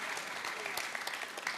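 A crowd applauds at a mushaira poetry gathering with continuous close clapping and a few sharper individual claps throughout the short burst.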